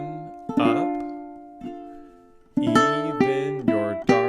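Bright ukulele chords strummed across all four strings, a few separate strums ringing out with short pauses, then a steadier run of strummed chords.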